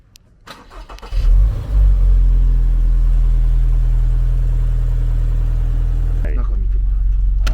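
Toyota GR86 engine on a test drive, starting with a burst of revs and then holding a deep, steady rumble from inside the car until it abruptly drops away near the end.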